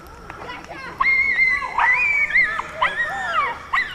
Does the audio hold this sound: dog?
yes